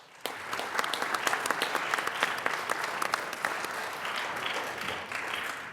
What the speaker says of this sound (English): So I want to give a round of applause to the coaches.